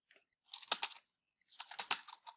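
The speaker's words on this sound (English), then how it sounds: "you would just hit lineups and you type in the name of the batter here" Two short bursts of computer keyboard typing as a batter's name is entered into an APBA baseball game lineup screen, clicking keys in quick clusters separated by a pause, close and alone.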